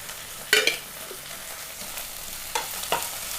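Onion, crushed garlic and chopped tomato sauté for an ivy gourd curry, giving a soft steady sizzle broken by a few brief scraping stirs of a spoon in the pan.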